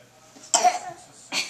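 A young girl coughs twice, a sharp cough followed by a shorter one, close and fairly quiet in a calm room.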